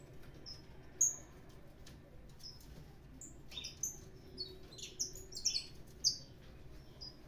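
Saffron finch (canário da terra) singing indoors, a run of short bright chirps and trills that cluster toward the end, fairly close over a low steady hum.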